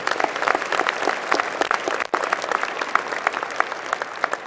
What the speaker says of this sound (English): let's have one round of applause for all of our award winners today